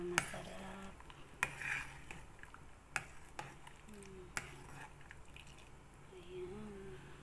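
A spoon stirs ginataang malagkit, sticky rice in coconut milk, in a pot, giving scattered clinks and scrapes against the metal, with a few sharp taps standing out over a soft background while someone talks.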